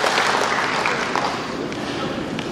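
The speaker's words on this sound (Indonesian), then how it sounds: "Tepuk tangan kita" Audience applause at a motivational talk, a steady dense wash of clapping that holds for a couple of seconds, loud and filling the room, slightly easing toward the end.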